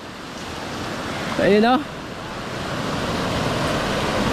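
Sea surf washing onto the shore at Alasanay, Aurora, a steady broad wash throughout with a short burst of voices near the middle.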